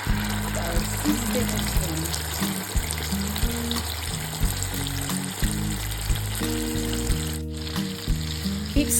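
Spinach stew simmers on low heat in a pan, giving a steady, soft sizzle and bubbling that runs throughout, with a voice or low tonal sounds intermittently underneath.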